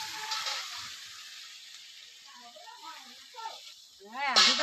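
Water poured into a hot frying pan for a Bengali fish curry with local hilsa, taro and Malabar spinach gives a sharp sizzling hiss at first that fades. A person then speaks close by over the lingering sizzle.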